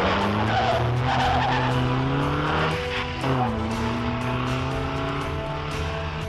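A car speeds toward a man on foot with tires skidding loudly, a long squeal with sliding pitch sweeps that dips mid-way and runs on under engine roar, dramatized action audio.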